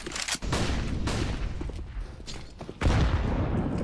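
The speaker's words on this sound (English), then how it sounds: "nades brutally hitting them" Grenades exploding on the Nuke map in a competitive Counter-Strike match: several heavy, booming bursts land a second or two apart, the last the loudest, over a constant din of gunfire.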